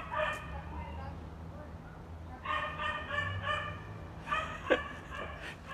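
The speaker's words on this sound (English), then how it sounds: "That is a dog that's hanging out the window of a car that's driving through my neighborhood here," A dog hangs out the window of a car driving through a residential neighborhood, barking in short repeated bursts, fairly faint and distant over a low steady hum.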